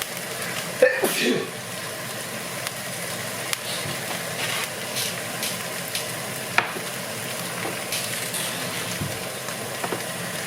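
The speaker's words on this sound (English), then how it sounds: "We'll cook the skin a little bit." Trout skin fries in a pan with a steady, soft sizzle throughout, broken by occasional clicks and utensil taps and a brief throat-clearing sound near the start.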